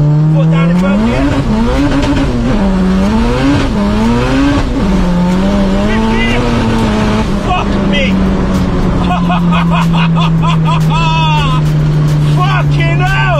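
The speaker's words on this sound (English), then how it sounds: "okay, third gear, foot down in third gear." A turbocharged Honda Civic EK3 hatchback pulls hard in third gear, its loud engine note sweeping upward in a steady, rising drone close to the microphone throughout.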